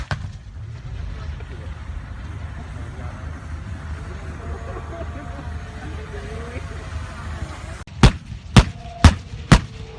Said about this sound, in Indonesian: Pak TNI nembak.